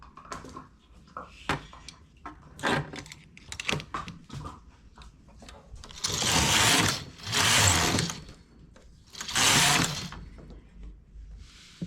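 A knitting machine set to a high tension knits sea foam stitch with two yarns, a comb and a weight: scattered clicks and clacks, then three loud sweeping carriage passes, each lasting a second or two.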